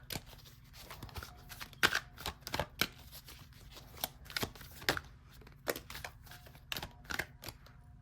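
Tarot cards are shuffled and drawn close up, a run of crisp riffling flicks and snaps in irregular bursts, quiet and heard without speech.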